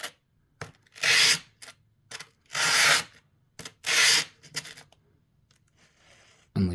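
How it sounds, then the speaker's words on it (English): Light cross-hatch scratches scraped into the sharpening stone of a Buck/Phrobis M9 knife sheath: three longer gritty rubbing strokes with several short scrapes between them, close and fairly quiet, with no voices. "lightly X-hatch the stone. Very lightly, just put a couple scratches."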